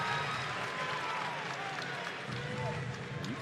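Crowd at a basketball game between Kansas and Kansas State alumni teams cheering and applauding steadily, a loud broad wash of clapping and voices throughout.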